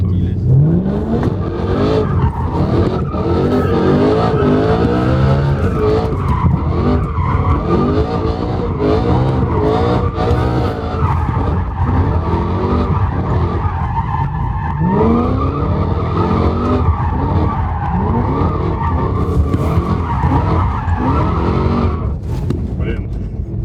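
BMW M3 E92 drift car launching hard, with a loud engine revving and rising through gears, tires squealing and skidding under people talking throughout.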